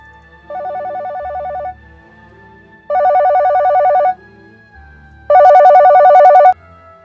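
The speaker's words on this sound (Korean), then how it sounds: "전화벨이 울렸다." A telephone bell rings in three separate bursts, each lasting a bit over a second, with pauses between them and the last burst loudest, over a quiet, low background.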